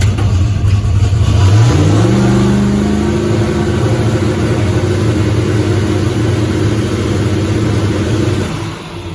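A turbocharged car engine set to about 2.5 psi of boost runs loudly and steadily, with a rising rev early on that settles into a sustained high-idle drone, tapering slightly at the end, with no talk.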